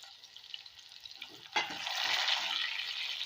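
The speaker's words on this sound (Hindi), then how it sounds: "अब हम पहले इसमें डालेंगे प्याज, ठीक है। इसको हम करेंगे हल्का सा फ्राई।" Onions lightly frying in a pan for a sabat masoor dish: a clatter, then a steady, close sizzle that rises and holds to the end.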